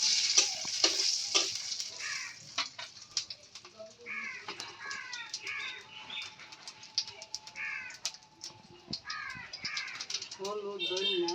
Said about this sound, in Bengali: কড়াইতে তেল দিয়ে দিলাম। সম্বার দিলাম শুকনা মরিচ আর জিরা।